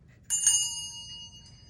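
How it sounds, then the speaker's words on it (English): A small hand bell kept for tarot set-up rings once with a bright, clear strike, and its metallic tone rings on and slowly fades in a quiet room. "Also, I keep a bell."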